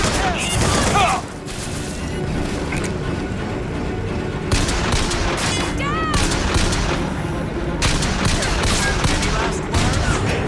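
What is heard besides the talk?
gunfire in the video game Bioshock Infinite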